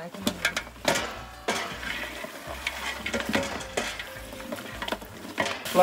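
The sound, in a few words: mutton frying and being stirred in a pan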